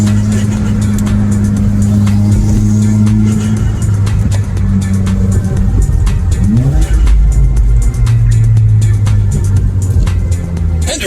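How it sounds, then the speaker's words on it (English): A tuned 2017 Subaru WRX drones along with steady low engine tones that dip and rise as the throttle lets off, a brief sweeping whoosh of turbo noise rising midway before the engine settles again. "Stop making foolish turbo noises"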